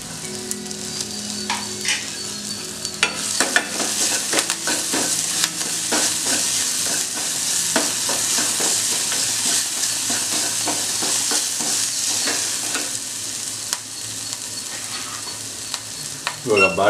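Chopped banana flower for palya is stirred and fried in a pan, with a continuous sizzle under repeated scraping and clattering strokes of the spoon, close and fairly loud, with no voices.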